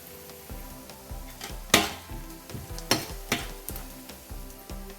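Onions sautéing with a little salt in a pan while spinach pasta is being cooked: a steady soft sizzle under repeated scraping stirs and a few sharper clinks of a utensil against the pan.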